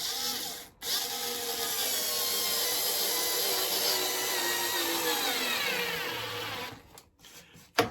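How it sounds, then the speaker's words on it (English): A cordless power drill drives a screw into the centre beam of a model railway baseboard, a close, steady whirring that holds for several seconds and then winds down into a few short bursts at the end. "This is screwing to the centre beam."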